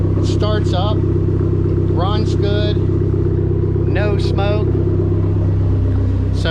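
A Dodge SRT-4 engine idles steadily after timing belt work, a constant low rumbling drone, while someone talks over it in short phrases.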